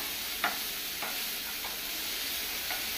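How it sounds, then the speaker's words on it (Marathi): Finely chopped onion fries in a pan over the gas with a soft, steady sizzle and a few faint clicks from stirring, close but quiet. "आता हो बरो असो फ्राय करून घेवपाचो, मातसो स्लाइट ब्रावन करपाचो।"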